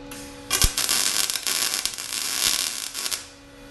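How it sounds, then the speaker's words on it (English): Tack welding on a Lamborghini Countach frame part, a continuous crackling buzz lasting about three seconds with a sharp pop at the start, close and fairly loud, with no talking. "Let's clean it up and weld it in. And I'm just going to tack it in for now"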